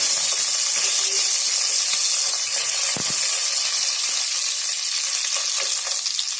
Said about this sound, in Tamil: இதுக்கு மேல நான் கொஞ்சம் ஒரு கருவேப்பிலை ஆட் பண்றேன்.